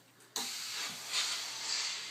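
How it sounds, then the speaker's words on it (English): Steam from a pressing iron or steamer hisses suddenly and continuously while trousers are shaped and pressed, a loud steady spray that swells slightly, with no speech. "shape that material with steam as it runs up"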